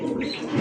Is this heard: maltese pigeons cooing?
yes